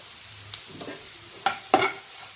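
A spoon scrapes and stirs bhindi masala (okra with spices) in a pan, a few soft scuffs followed by two sharper scraping strokes close by, with faint background hiss.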